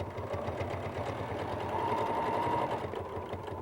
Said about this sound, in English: just hold that underneath piece there and sew right off